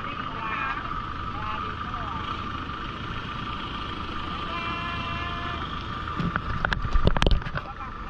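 A boat motoring past on a clear-water lagoon at Pileh Lagoon, Phi Phi Islands, a steady engine drone under wind noise that swells louder near the end as it draws close.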